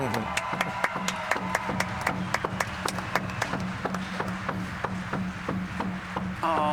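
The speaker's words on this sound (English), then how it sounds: "give a big, huge applause for Mirai" Scattered claps and sharp taps ring out at a steady, uneven rhythm through a skateboarding competition crowd at a women's skate final, a low steady hum beneath them, with no voices over the clapping.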